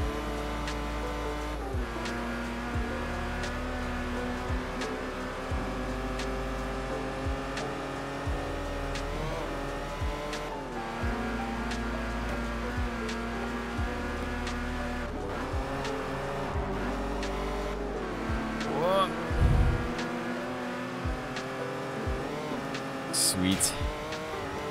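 A car engine in the Forza Horizon racing video game drones and shifts through gears for a long stretch, with occasional rev changes and tire noise, while a person talks over it.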